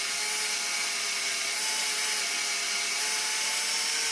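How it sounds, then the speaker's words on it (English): A handheld drill bores through an aluminum radiator housing, giving a steady, loud, high whining grind that holds without a break, with no one speaking. "It's just an aluminum housing, so it drills real easy."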